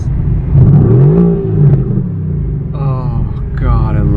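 A Mercedes-AMG GT R engine fires up and revs nearby, a loud deep rumble rising and falling over several seconds with a brief revving surge near the end.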